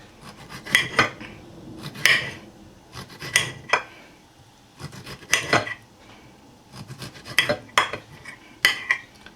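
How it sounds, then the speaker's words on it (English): Knife cutting a plum tomato on a board: a series of distinct close chops and taps in irregular clusters, each a short crisp knock with soft scraping between, no talking. "Now, let's cut up the plum tomato."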